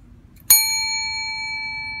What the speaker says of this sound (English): This is actually the idea, a teller bell.